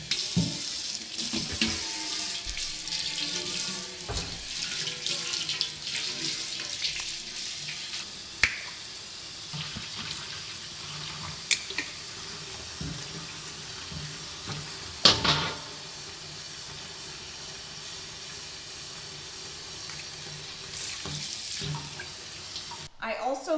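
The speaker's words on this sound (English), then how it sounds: "I'm gonna fill this huge bowl up with water" Tap water runs steadily into a huge bowl, a continuous rushing splash with a few sharp clinks and knocks along the way, and a voice is briefly audible in the background.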